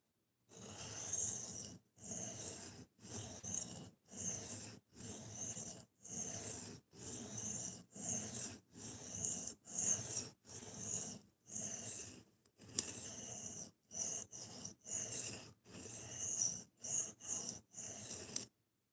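A soft-steel knife blade is drawn repeatedly across a sharpening stone in a steady series of rasping strokes, each about half a second long and separated by short pauses, close and fairly quiet.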